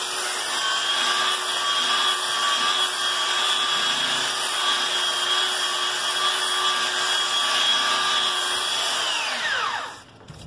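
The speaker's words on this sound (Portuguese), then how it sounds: "Então vamos usar aqui agora uma lixa 320." A power sander fitted with 320-grit sandpaper works a wooden surface with a steady, high whirring whine held for about ten seconds before it winds down; no talking.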